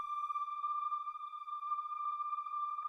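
A TuneMaker VST synth patch with chorus, reverb and a slight drive holds one steady, pure, bright note for about three seconds, with no talk over it.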